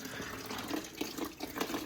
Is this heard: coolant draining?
yes